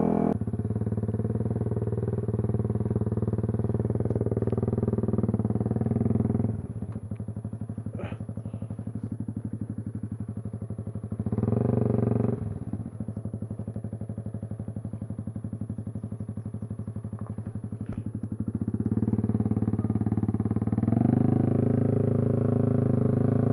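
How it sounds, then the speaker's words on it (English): Yamaha YZF-R125 motorcycle ridden off-road along a green lane, its engine droning steadily and rising and falling with throttle changes, with occasional clatter and bumps from the rough track. "Off-roading on a bike. Green laning."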